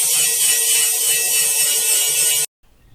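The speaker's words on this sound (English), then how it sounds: "If there are any high spots, I just grind them down until the frame fits." An angle grinder works the high spots on a steel door frame for a sliding cavity pocket door in a shipping container house, giving a loud, steady, buzzing whine for about two and a half seconds before cutting off abruptly into near silence.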